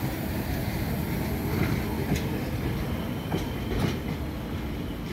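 An Lxd2 railbus passes through Bachórz station with a steady, loud rolling rumble and occasional clicking of wheels over rail joints, heard close with no voices.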